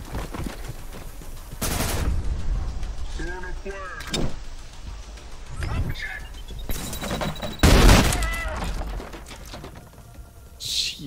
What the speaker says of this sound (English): The shotgun does some big damage.